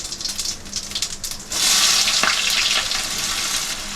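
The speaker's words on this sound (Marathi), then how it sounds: "जिरं चांगलं तडतडलं ना मग त्याच्यामध्ये कांदा टाकायचा." Chopped onion drops into hot oil with crackling cumin in a kadhai: a softer sizzle jumps into a loud, continuous hiss and spatter after a sharp burst, then keeps frying steadily close by.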